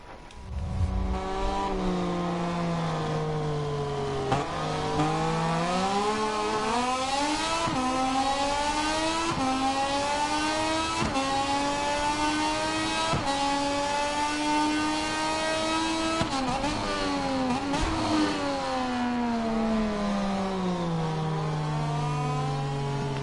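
A racing vehicle engine revs hard on a local grand prix race track, its loud, steady whine climbing and dropping through repeated gear changes over more than twenty seconds, close and continuous with no talk.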